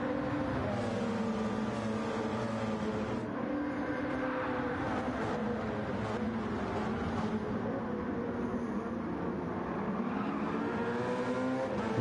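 LMP1 prototype race cars roar around the Daytona speedway banking in a racing video game, a dense, continuous layered drone of several engines at steady high revs with no break.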